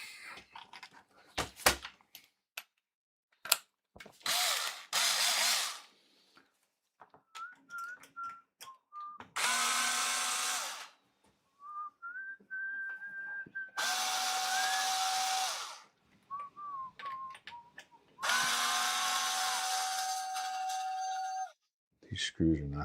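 Power drill driving screws in short bursts with pauses between them, its whine rising and falling, with a person talking in the gaps.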